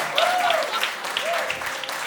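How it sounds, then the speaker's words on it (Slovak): Audience applause fills a comedy stage show, a dense, steady patter of clapping with faint whoops or voices rising above it. "Zatleskejte mi, lebo ja sa snažím"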